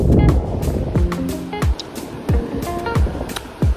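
Sea waves wash onto Suvali beach in Gujarat, a rushing surf broken by sharp clattering knocks and brief squeaking tones, loud and close.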